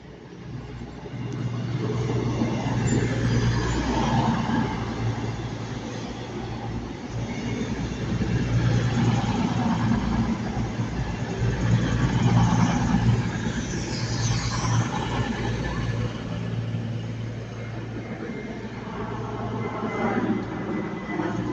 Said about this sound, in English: The first is the 12:19 cross-country service to Manchester Piccadilly, which is ex-Avanti West Coast